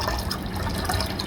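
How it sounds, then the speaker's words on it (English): Hydrochloric acid poured into a solution, a close, continuous gurgling splash of liquid filling a container, steady throughout with no speech. "So I'll pour some HCl in there."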